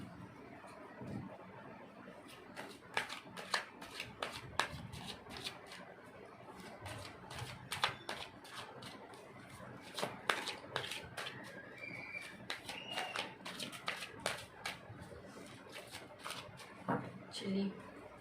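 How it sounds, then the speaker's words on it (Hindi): A tarot card deck is shuffled close up in quick, repeated riffling and snapping bursts throughout, with someone speaking softly over the cards. "चलिए, अच्छे से सफलिंग हो गया है।"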